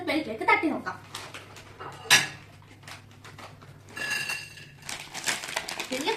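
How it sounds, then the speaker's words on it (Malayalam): French fries tipped out of a packet onto a plate give rustling, crinkling bursts and a sharp clatter near the start, with scattered clinks later, close by, as a voice talks over parts of it. "ഇനി നമുക്ക് ഈ ഫ്രഞ്ച് ഫ്രൈസ് ഒരു പ്ലേറ്റിലേക്ക് തട്ടി നോക്കാം"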